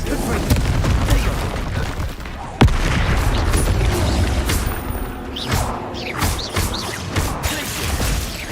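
A Confringo blasting spell goes off in Hogwarts Legacy, with one sharp, loud blast near the start followed by rumbling impacts and clatter in a busy battle mix.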